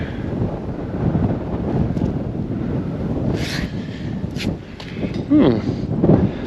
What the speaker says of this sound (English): It's very windy though. Very windy.